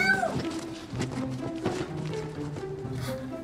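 A rescued polydactyl kitten gives a short, high meow near the start, followed by soft shuffling and tapping with faint movement nearby.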